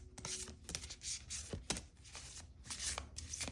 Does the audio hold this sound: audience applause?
no